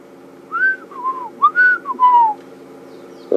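A person whistles an imitation of a black-crowned tchagra's call: several slurred, rising and falling notes in two short phrases, close and clear, during a safari game drive.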